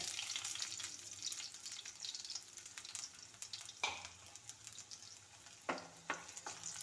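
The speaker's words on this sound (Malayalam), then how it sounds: "ഇപ്പോൾ നമുക്ക് ആദ്യമേ വെളുത്തുള്ളി ഇട്ട് വഴട്ടാം" Garlic sautéing in hot oil in a pan, a quiet continuous sizzle with a few crisp spatula stirs and scrapes, two or three clustered near the end, heard close up.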